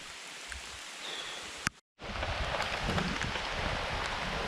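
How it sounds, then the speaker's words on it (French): Heavy rain pours during a thunderstorm on a night-time Vosges mountain trail, giving a dense, steady patter with scattered sharp drops, broken by a brief gap partway through, and no speech. "je suis en train d'essuyer un putain d'orage de dingue. Il pleut à grosses gouttes"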